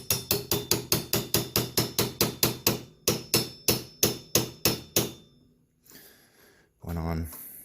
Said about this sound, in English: put my socket that fits over the shaft, and I can just pound it down